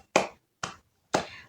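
A classroom group claps together in a rhythmic clapping game during a school guidance session: three sharp, evenly spaced bursts of many hands, each fading quickly into silence.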